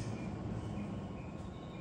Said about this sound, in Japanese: 勝田行きが参ります。